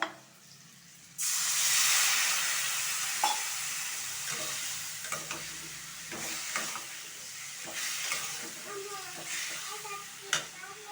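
Hot water is splashed into a pan of frying vegetables with ginger-garlic paste for an egg and potato curry, setting off a sudden loud steamy hiss that settles into a softer sizzle with intermittent stirring clatter.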